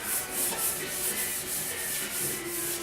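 Rhythmic back-and-forth rubbing of a foam pad with sandpaper-type backing on bare metal, steady repeated strokes close up with no talk.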